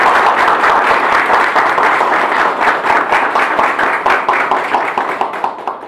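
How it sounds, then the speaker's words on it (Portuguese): A loud round of applause from an audience at a religious anniversary celebration, close and dense at first, then settling into more rhythmic, unified clapping that trails off toward the end. "E a ela eu quero pedir a todos uma gloriosa salva de palmas."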